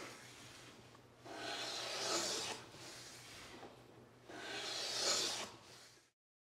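Wood is cut by hand while building a cabinet case, two long, close strokes of rasping, sawing noise, each swelling and fading, separated by a brief pause, with no talking.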